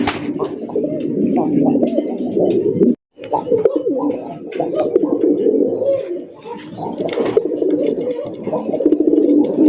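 Several male pigeons at a pigeon sale coo loudly and continuously in overlapping rolling calls, each with its own style, broken by one short silence early on, with a little talk mixed in.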